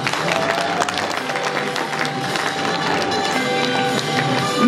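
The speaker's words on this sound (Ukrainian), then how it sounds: "аплодисменти." Steady applause fills a graduation ceremony hall where bachelor's diplomas are handed out, a dense continuous patter of many clapping hands held at an even level, with faint crowd murmur beneath.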